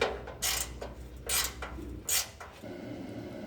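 A wrench tightens a bolt on a car frame during a build from the frame up, with several short metallic ratcheting bursts and clicks close by, separated by brief pauses.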